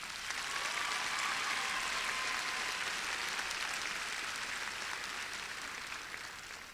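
A graduation commencement audience claps in a dense, sustained wash of applause that holds steady and then fades slightly toward the end, with no voices over it.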